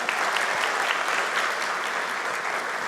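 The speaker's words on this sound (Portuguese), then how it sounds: "Aplausos para Jesus" An audience applauds at a church talk, a dense, even burst of clapping that carries on steadily throughout, with no voices over it.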